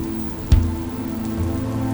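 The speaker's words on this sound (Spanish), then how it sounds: "Una tierra donde a principios de mayo comienza la lluvia." Rain falls steadily in a Quintana Roo landscape, a constant wash of patter with a single louder thud near the start, heard close and without voices.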